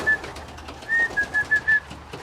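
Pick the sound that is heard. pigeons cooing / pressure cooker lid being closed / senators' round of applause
pigeons cooing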